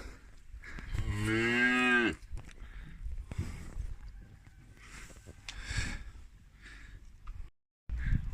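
Young calves in a farm pen and outdoor run let out a loud, drawn-out moo, followed by quieter snorts, shuffling and faint calls further off.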